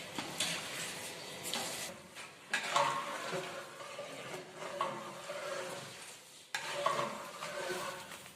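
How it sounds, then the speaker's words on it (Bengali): Full cream milk powder, about 500 grams, is stirred into a mixture in a pot, making rhythmic scraping and swishing strokes that come in close, repeated bursts with soft clinks. "গুঁড়ো দুধগুলো এভাবে মিশিয়ে ভালোভাবে"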